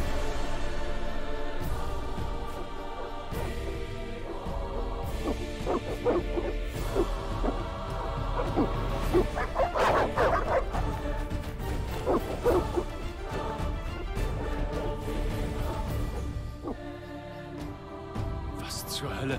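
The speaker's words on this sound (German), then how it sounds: "Das sind böse Hunde." Dogs barking and yipping in the German-language version of the video game The Witcher, in the countryside outside Wyzima, heard as repeated bursts over a dense, continuous game soundtrack and effects.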